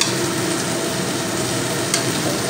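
Chow mein with cauliflower stirred in a hot frying pan, a loud steady sizzle and frying hiss with scraping stir sounds close by, no talking.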